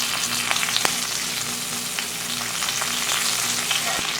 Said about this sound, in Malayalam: ബാക്കി വന്ന എണ്ണയിൽ ഞാൻ ഒരു തണ്ട് കറിവേപ്പില ഇടുകയാണ്.